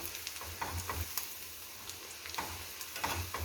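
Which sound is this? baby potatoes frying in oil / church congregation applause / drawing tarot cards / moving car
baby potatoes frying in oil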